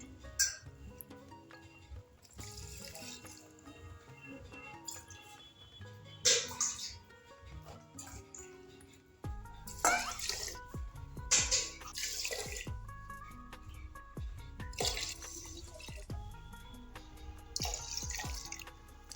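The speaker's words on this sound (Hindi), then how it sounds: "हम यहाँ पे 6 कटोरी पानी डालेंगे।" Six bowls of water pour into a pressure cooker for a mustard fish curry in several separate splashy bursts with brief gaps between, fairly quiet and close, with no speech.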